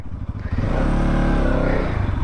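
A 2025 Bajaj Pulsar NS 200 motorcycle engine revs hard and loud up close, a deep throbbing roar that rises and holds, with a mechanical clatter underneath.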